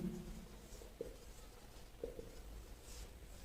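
A pen writing on paper, faint soft scratching strokes with a few brief taps, close and quiet in an otherwise still room.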